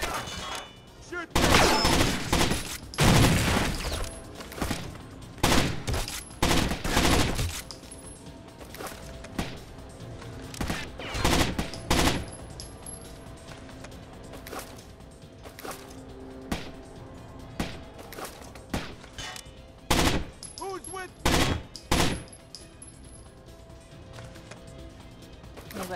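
Bursts of automatic and single gunfire from the video game Rainbow Six Vegas 2, loud clustered volleys separated by brief lulls, with intermittent voices talking underneath.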